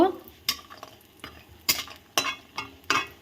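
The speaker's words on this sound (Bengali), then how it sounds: "তেলের মধ্যে আমি বড়ি দিয়ে দিয়েছি, মাসকলাই ডালের বড়ি" Urad dal bori dumplings fry in hot oil with a low sizzle, punctuated by sharp, close clinks and scrapes of a utensil stirring against the pan at irregular intervals.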